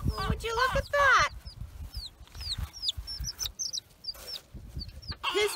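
Chickens cluck close by at the start, then a newly delivered box of chicks gives repeated short, high peeps through the rest, with a louder burst of clucking near the end.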